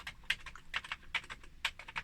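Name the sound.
typing on Sharp MZ-700 computer keyboard keys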